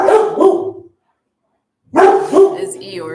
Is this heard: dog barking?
yes